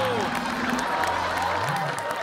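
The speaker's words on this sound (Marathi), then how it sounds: "टाळ्या." An audience applauding at a comedy show prize announcement, a continuous wash of clapping that holds at an even level for the whole stretch, with some tonal sound layered over it.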